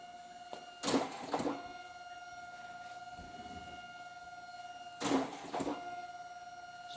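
A photo strip printer powers up with two short bursts of mechanical whirring, one near the start and one near the end. A steady tonal hum sits underneath throughout, and there is no talking.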